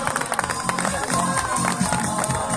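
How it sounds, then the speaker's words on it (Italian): Crowd applause and cheering at an awards ceremony for a local tournament, loud and busy with voices mixed into the clapping. "un applauso"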